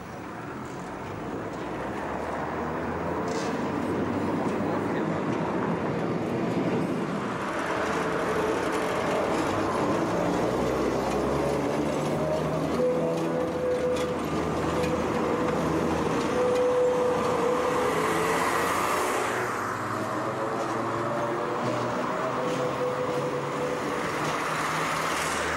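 A Gotha tram car runs through the streets of Jena, a steady rolling rumble of wheels and motor with traffic noise around it, holding at a constant level throughout with a brief squeal partway.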